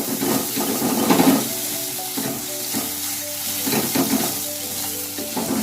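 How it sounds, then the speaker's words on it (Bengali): Broad beans frying with salt in a pan, a steady sizzle overlaid with stirring and scraping strokes that swell in a few louder bursts, with no voices. "নুন দিয়ে আরও 2-3 মিনিট নাড়াচাড়া করে নেবেন।"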